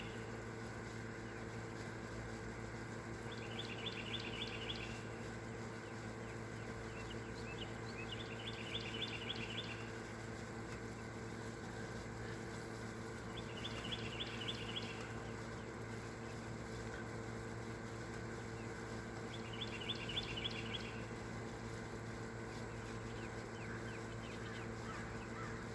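Several kinds of birds singing on a quiet morning, four short trilling bursts spaced out a few seconds apart, faint and distant over a steady low hum.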